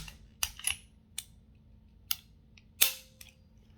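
Dry trigger pulls and resets on a cleared Ruger LCP MAX pistol give a handful of crisp, isolated clicks spaced out over a few seconds, close and fairly quiet against a low background hum.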